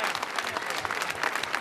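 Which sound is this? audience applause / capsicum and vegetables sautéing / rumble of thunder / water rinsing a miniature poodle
audience applause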